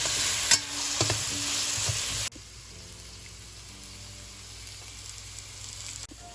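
Ground spice masala, for a curry with sun-dried ash gourd nuggets and potatoes, fries in a pan with a close, steady sizzle and stirring. The sound drops sharply in loudness after two seconds and carries on more quietly.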